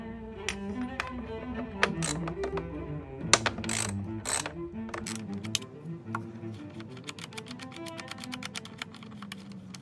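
A 12-point Allen key works the intake manifold bolts on an Audi A3 3.2-litre V6, making close, quick ratcheting clicks in uneven runs with occasional sharper metallic knocks.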